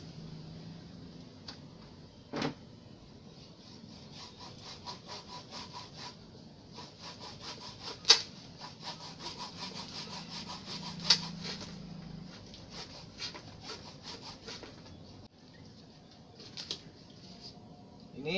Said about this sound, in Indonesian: akan saya potong nantinya untuk merangsang akar tumbuh dari mata tunas